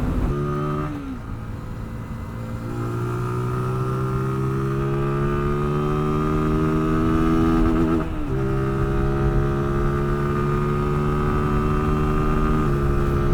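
A Zontes ZT 125-U1 motorcycle engine pulls up steep Portsdown Hill at close to 60 mph, a loud, steady droning hum that holds its pitch, with brief dips and shifts where the revs change.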